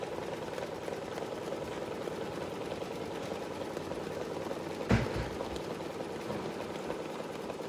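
An embroidery machine stitches white felt for a mask, a steady, fairly quiet mechanical hum and patter running throughout, with one brief louder knock partway through.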